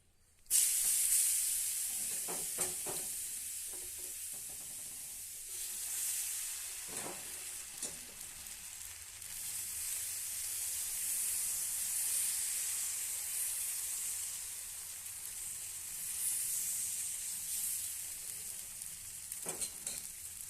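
Mudakathan keerai dosa sizzles on a hot pan, a soft continuous frying hiss that swells and fades with a few scraping taps from a spatula, quiet and close with no speech.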